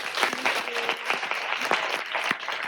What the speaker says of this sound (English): I would just like to clap it up one more time for our panelists